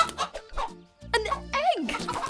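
A cartoon chicken clucks in a children's educational riddle cartoon, a few bright squawking calls mixed among cheerful character voices, with a rising, bending cluck near the end; people talk throughout.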